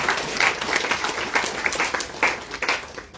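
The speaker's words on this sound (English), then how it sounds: "we must give our hard-working, committed and dedicated Minister of Agriculture a big round of applause." Audience applause at the commissioning of a pump station on the Essequibo Coast, honouring the Minister of Agriculture: steady, moderately loud crowd clapping with dense overlapping claps throughout.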